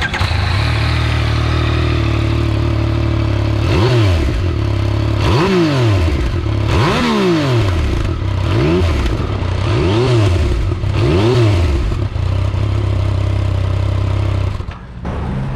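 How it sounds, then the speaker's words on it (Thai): A Yamaha MT-09 with its current CP3 three-cylinder engine idles loudly and steadily, then gets five sharp throttle blips in a row, each revving up and falling back before it settles to idle. "เดี๋ยวผมจะให้ฟังเสียงจากเครื่องยนต์ตัว09ที่เป็นโฉมปัจจุบันที่มีอยู่ณขณะนี้ก่อน"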